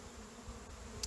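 Honey bees swarm at an open hive while a frame is handled, a soft continuous droning buzz of many insects close by, steady and low with a faint tick near the end.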